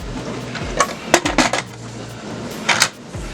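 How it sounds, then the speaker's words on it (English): Metal lid set back onto a Power Pressure Cooker XL, a series of light clanks and scrapes as it is positioned, with a few sharper metallic knocks and a soft low hum underneath. "So what I'm gonna do next is put the lid back on."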